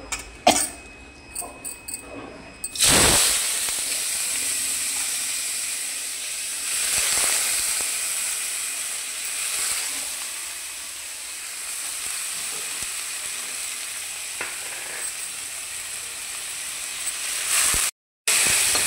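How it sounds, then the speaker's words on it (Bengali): Onion and garlic hit hot oil in a wok with a sudden loud burst of sizzling, then settle into a steady, close frying hiss that lasts throughout, with faint stirring scrapes. "পেঁয়াজ রসুনটাকে ভেজে নেব।"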